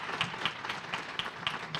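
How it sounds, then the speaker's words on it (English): Scattered audience applause at a women's commission event, soft and somewhat distant, with individual claps in an uneven patter over a low room hum. "Let's give this group another big round of applause."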